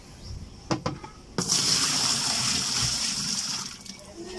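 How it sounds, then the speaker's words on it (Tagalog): Water pours steadily into the tub of a twin-tub washing machine, starting after a few clunks and running as a continuous close rush and splash with a faint high hiss. "So lagyan natin ng tubig kung tumatagas pa ba yung tubig doon sa may hose."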